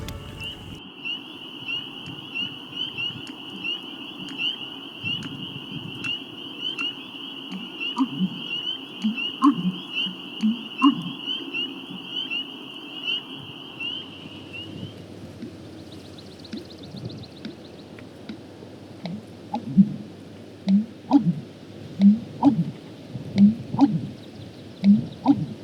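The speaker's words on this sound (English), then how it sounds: "a video I got a couple years ago of a bittern doing the wonk chonk noise" An American bittern gives its deep, gulping wonk chonk call in a Maine wetland, the low pumping notes repeating several times in the second half over a steady insect drone and faint background noise, with no voices.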